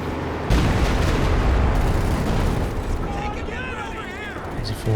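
Heavy artillery booms from Soviet B4 howitzers in a Company of Heroes 2 match, a loud broadband blast at the start followed by rumbling battle din, with someone talking over it throughout.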